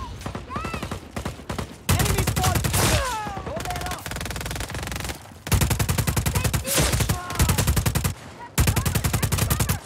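Just Cause 4 video game gunfire: loud, dense bursts of rapid machine-gun shots in several long volleys, with brief pauses and sharp impact effects between them, close and filling the whole stretch.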